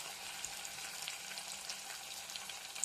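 Rambutan pickle masala frying in a pan with turmeric powder, a quiet, steady sizzle with faint crackles and a soft stirring scrape.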